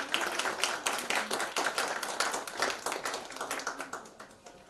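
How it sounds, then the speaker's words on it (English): Audience applause at the International Space Science Olympiad, many hands clapping in a dense, steady wash that holds for several seconds before easing slightly toward the end, with no voices over it. "Please give a round of applause for our Murli sir."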